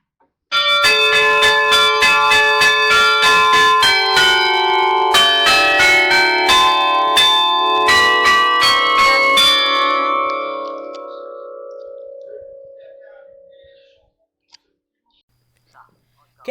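Carillon church bells ringing in Douai, with a rapid run of bright, overlapping chimes for about nine seconds, then a long ringing decay that fades out, followed by a couple of faint knocks.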